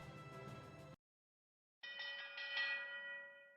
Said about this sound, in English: Oh, ding, ding, ding. The bell has rung.